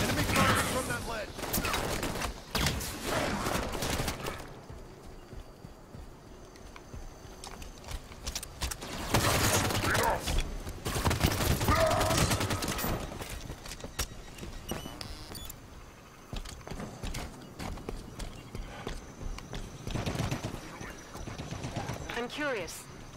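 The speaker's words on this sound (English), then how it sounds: "Enemy fire from that ledge." Enemy gunfire in the Halo 5 video game, with repeated bursts of shots rattling across a long stretch, moderately loud and mixed with game voices and other battle noise.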